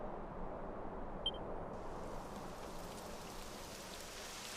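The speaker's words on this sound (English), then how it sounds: "Typical. It would have to go and start raining." Steady, soft rain falls in Dragon Quest XI, a constant hiss of raindrops spread evenly throughout, with no distinct individual sounds standing out.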